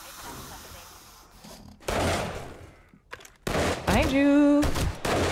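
Gunfire in the video game 7 Days to Die, Alpha 20 PvP arena, comes in sharp bursts of loud shots between quiet gaps, with a player's voice briefly speaking over it.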